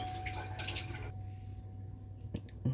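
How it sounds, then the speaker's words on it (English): A kitchen tap runs for a second or so while hands are rinsed after mixing potato salad, then cuts off, leaving a few faint drips and clinks in a quiet room. "Rinse my hands."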